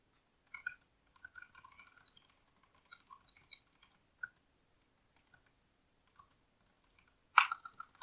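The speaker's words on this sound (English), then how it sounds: "Okay, I can just type that." Fingers tap out short bursts of keystrokes on a computer keyboard, quiet and close in an otherwise silent room, with scattered clicks and a final quick flurry of louder keys.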